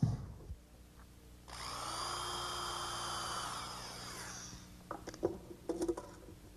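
Power drill driving screws through the jamb of a pre-hung door being installed, a steady whining buzz for about three seconds after a short tap, then fading into scattered knocks and handling clatter.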